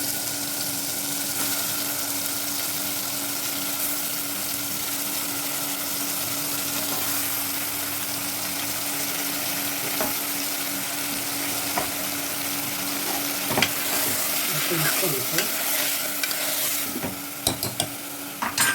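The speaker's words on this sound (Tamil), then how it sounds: "கொஞ்சம் வதங்கட்டும்" Chicken pieces sauté in a pan on the stove with a steady, close sizzle that runs unbroken, joined later by a few clinks and scrapes of stirring.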